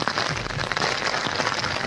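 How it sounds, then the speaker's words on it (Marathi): Heavy monsoon rain at Raigad fort pours down as a dense, unbroken hiss of drops striking surfaces, loud and close with no voices. "भयंकर पाऊस चालू आहे."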